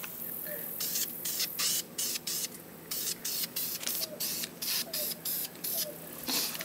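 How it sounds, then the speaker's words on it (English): A spray paint can hisses in repeated short bursts over the bottom of a garden gnome, each spray separated by brief pauses, close and steady with no talking. "I'm gonna spray the bottom side first"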